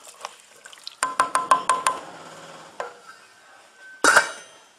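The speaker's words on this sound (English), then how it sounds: "I'm going to give it a stir." A spoon clinks against a pot several times in quick succession while Chinese chicken noodle soup broth seasoned with toasted five-spice is stirred on the heat, followed by a brief louder metallic scrape, close up with no voices.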